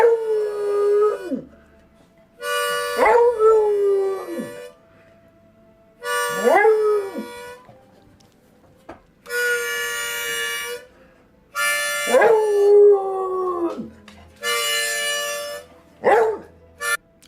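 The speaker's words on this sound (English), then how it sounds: "sometimes it's my dog singing." A pet dog howls and 'sings' in repeated drawn-out, wavering howls with rising and falling pitch, loud and close, alternating with bursts of noisy shuffling or rustling sound between phrases.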